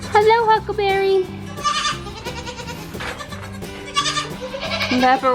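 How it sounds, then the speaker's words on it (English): Young goats bleat repeatedly in high, wavering cries, close and loud, overlapping one another with brief gaps between calls. "Baby goats."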